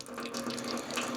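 Water runs steadily from an outdoor campsite tap, a continuous close splashing flow that lasts the whole short moment without any voices.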